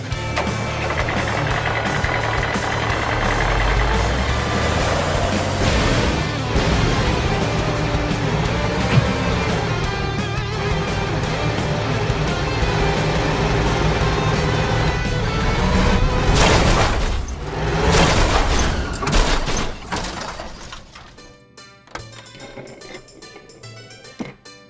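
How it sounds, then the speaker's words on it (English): Stop-motion LEGO truck crash test effects: a loud, dense engine-like roar runs steadily for most of the span, swelling into a burst of crashing noise near the end before dropping off to a quieter tail. "So I can present to you the truck crash test."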